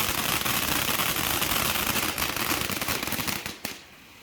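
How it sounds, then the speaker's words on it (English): A firework crackles and pops in a dense, loud, rapid burst of small bangs, sustained for several seconds before cutting off abruptly and fading to quiet. "the surprise as the Roman candle takes up 3 times as much room halfway through without telling you or warning you"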